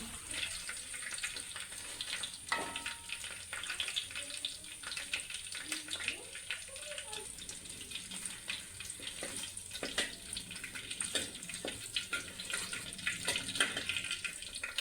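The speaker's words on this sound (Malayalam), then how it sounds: "ചിക്കൻ ഇതുപോലെ ഷാലോ ഫ്രൈ ചെയ്തെടുത്തിട്ടുണ്ട്" Steady crackling sizzle of chicken shallow frying in hot oil, continuous and close, with occasional louder pops and spatters throughout.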